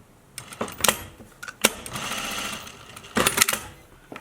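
A sewing machine stitches a fabric face mask seam in short bursts of rapid mechanical whirring, separated by clicks and brief pauses, loud and close, with no talking.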